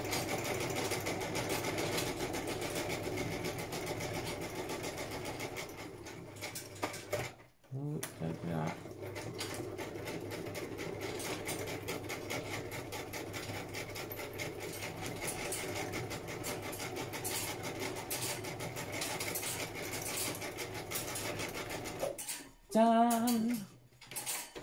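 A sewing machine stitching paper scrapbook booklets runs in a steady, continuous mechanical whir for about twenty seconds, with a brief pause partway and a short stop near the end; nearby and moderately loud.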